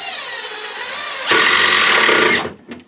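A power drill whines, then strains hard under load as it drives a deck screw into wood, stopping abruptly after about a second.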